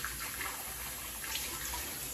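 Warm water runs steadily from a bathroom tap as a steady, close, hissing splash while a beard is shaved with a Gillette Black two-blade disposable razor, with no talking.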